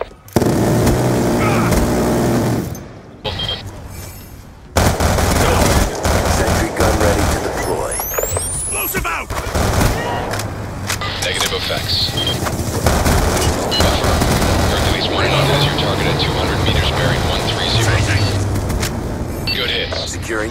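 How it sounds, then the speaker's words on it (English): Death Machine minigun in a video game firing in sustained dense bursts, loud and continuous, with game radio voices and other battle noise layered over it. "Friendly death machine spinning up."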